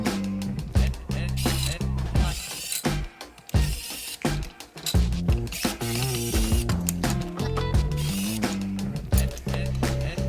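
Ratchet removing clutch case cover screws from an engine block, rapid close-up clicking strokes in repeated bursts with short gaps, steady and fairly loud throughout, no talking.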